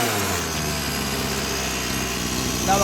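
A Rovan XLT gas-powered RC monster truck engine runs steadily during break-in with a quiet stock pipe. It makes a continuous, loud, buzzing drone like a lawnmower that stays close and even throughout.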